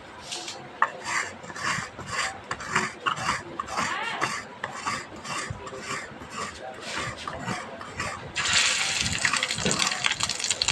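Batter made with gram flour is kneaded by hand at close range: a steady run of wet, rasping rubs and squelches in a regular rhythm, growing denser and messier near the end.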